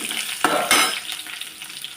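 Garlic and dried red chillies fry in hot oil, a steady close sizzle with two sharp bursts as ingredients hit the pan, then a softer continuous crackle with no one talking.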